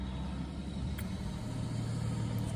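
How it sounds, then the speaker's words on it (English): Steady low traffic rumble from cars going by on a street in a small town, a continuous near-constant drone with no distinct single pass, heard alone without talk. "Can you hear all the cars go by?"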